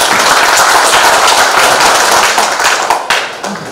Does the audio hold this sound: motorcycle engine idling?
no